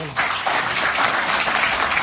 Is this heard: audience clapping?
yes